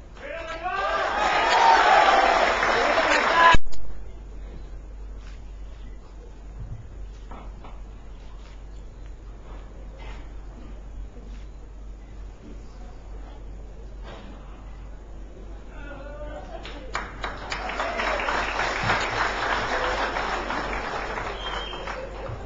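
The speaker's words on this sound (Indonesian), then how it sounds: "Aplaus sekali lagi untuk DPC Balikpapan" An audience at an installation ceremony for a regional organization's branch in Balikpapan bursts into loud applause, falls quiet while someone speaks, then claps again in a second long round.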